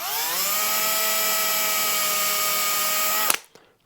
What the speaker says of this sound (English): Just going to drill that out.